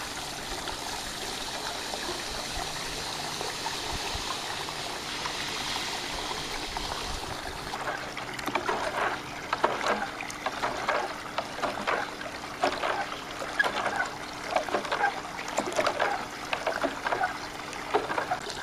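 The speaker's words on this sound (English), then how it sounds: "Some calcium chloride pellets. And just pour it into the water." Calcium chloride pellets pour steadily into backyard pool water from a bucket, a continuous hiss and patter that gives way to scattered splashes and trickles, close and moderately loud, with no talk.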